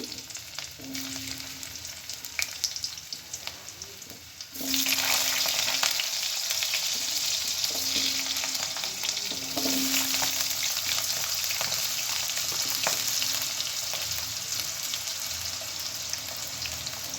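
Potatoes and vegetables frying in a hot pan, a constant loud sizzle that jumps louder partway through as more goes in, with intermittent stirring scrapes and short hums.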